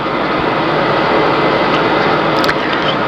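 Light airplane engine climbing out after takeoff, a steady loud broadband roar holding level throughout with no pauses, heard close as from inside the cabin.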